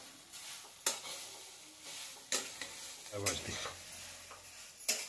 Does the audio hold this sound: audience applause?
no